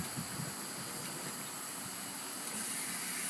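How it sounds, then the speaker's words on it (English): A steady, unbroken hiss of steam rushes at an even level throughout, like an injector forcing water into a boiler. "I'm injecting water into the boiler right now"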